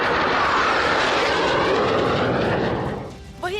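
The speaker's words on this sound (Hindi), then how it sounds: "नीले आसमान में उड़ान भरते हुए 7 सूर्य किरण विमानों ने डायमंड फॉर्मेशन बनाकर धीमी उड़ान भरी" Seven Surya Kiran jets fly low and slowly overhead in a diamond formation at an air display, producing a loud, sustained roaring drone that fades toward the end.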